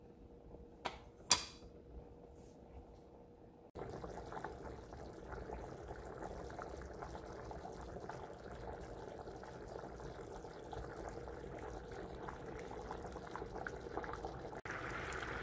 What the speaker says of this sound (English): So this is gonna boil crazy